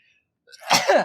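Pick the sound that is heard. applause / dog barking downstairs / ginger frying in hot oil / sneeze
sneeze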